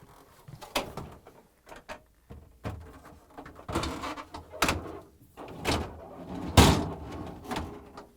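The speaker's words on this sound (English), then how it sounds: "Now we can close the freezer door" Freezer door of an LG refrigerator swings shut with a series of loud thumps and clatters, several sharp bangs spaced irregularly, close up with no talking.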